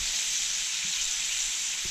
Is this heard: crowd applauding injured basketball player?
no